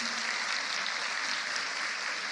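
Church congregation clapping together after a reading during a Father's Day morning service, a broad, even roar of many hands, fairly loud and sustained without a break.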